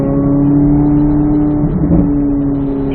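Car accelerating hard out of a corner on a race track during a driving session, a steady loud engine drone with strong harmonics that swells briefly mid-clip, no talk.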